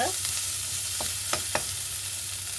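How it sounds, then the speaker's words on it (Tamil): Onions sautéing in a pan while being stirred, a steady low sizzle with a few faint scraping stirs of the spoon, close and quiet with no talking. "வெங்காயத்தை சேர்த்து கொள்ளுவோம் அதையும் வதக்கி விடுவோம்"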